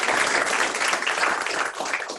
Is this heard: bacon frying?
no